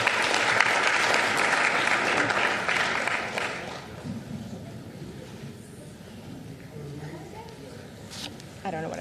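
Audience applause at a city commission meeting honoring students, steady clapping that fades after a few seconds, giving way to quieter room noise and murmuring voices.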